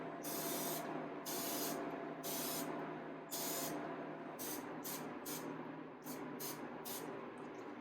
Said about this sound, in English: Spray each one.